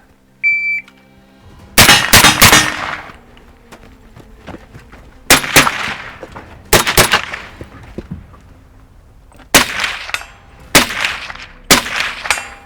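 An M1 carbine fires on a shooting course in loud, close shots that come in quick pairs and short strings, each followed by a ringing metallic clang and separated by quiet pauses.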